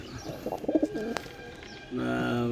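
A newly paired male and female pigeon coo softly in a short run of low, throaty warbles, followed by a steady tonal hum in the background.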